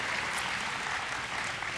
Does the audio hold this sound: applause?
yes